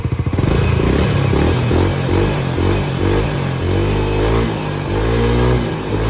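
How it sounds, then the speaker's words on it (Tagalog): A Yamaha Mio i 125 scooter engine runs loudly and steadily close by, with repeated revs rising and falling throughout. "Kahit naka-start na yung motor"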